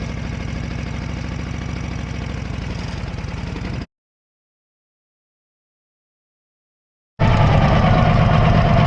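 A Harley-Davidson motorcycle with a jockey hand shift and foot clutch idles in neutral, a steady loping rumble that cuts out abruptly midway and then returns louder after a few seconds of silence.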